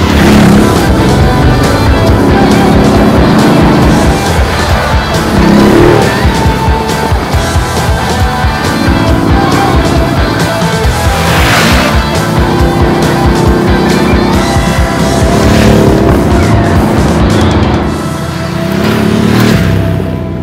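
A Ducati DesertX adventure motorcycle with a water-cooled engine based on the Multistrada unit runs while being ridden, a loud, close, continuous engine drone with shifting pitch and wind rush, and no speech over it.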